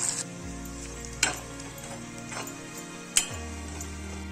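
Finely chopped onions dropped into a hot frying pan, a continuous sizzle with two sharp clinks of a utensil against the pan, and a low hum starting and stopping.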